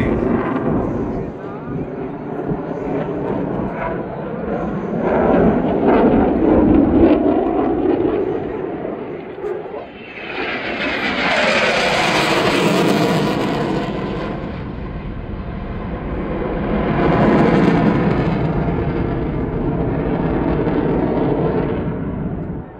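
An F-16 fighter jet flies an air show display over the old harbour of Chania, its loud roaring engine rising and falling as it manoeuvres through tight high-G turns, sweeping past close with a strong whoosh, with faint commentary beneath.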